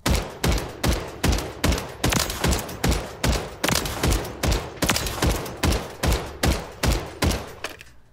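An MT-1762 semi-automatic rifle in the Warzone game fires a long run of about fifteen loud, close shots in an even, deliberate rhythm, each with a short decaying tail.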